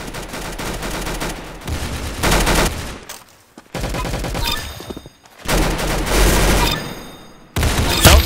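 Rapid bursts of video game gunfire from Roblox Arsenal, loud and dense, with automatic fire broken by brief pauses and single shots over a steady game backdrop.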